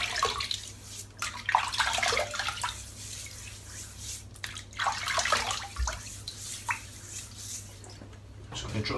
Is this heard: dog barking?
no